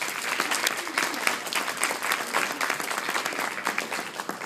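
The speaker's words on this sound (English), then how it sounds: "let's give a round of applause for her." An audience at an induction ceremony claps steadily and densely throughout, sustained applause with no pause, moderately loud and continuous.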